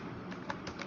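Computer keyboard typing: a few soft, quick keystroke clicks in an uneven rhythm, close and faint over a low background hiss.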